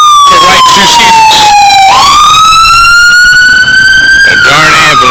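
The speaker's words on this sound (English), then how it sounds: "A darn ambulance." An ambulance siren wails loud and close past a car, its tone sliding down, then sweeping back up and holding, over steady road noise.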